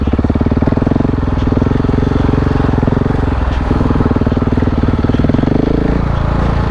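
Single-cylinder KTM 690 Enduro R dual sport motorcycle being ridden off-road through grass, its engine thumping steadily and loud throughout, with a rapid even firing pulse and no talk.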